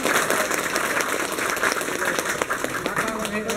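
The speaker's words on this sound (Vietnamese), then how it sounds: "Xin một lời vỗ tay nhỉ." Applause at a reunion of former army comrades marking enlistment day: steady, fairly close clapping from a small gathering, sustained evenly throughout, with faint voices mixed in.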